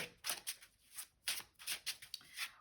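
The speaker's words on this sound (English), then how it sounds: "I like them because they're easy to shuffle though" Slippery tarot cards riffle and slap together in quick bursts, several crisp shuffles close by in a quiet room with no talking.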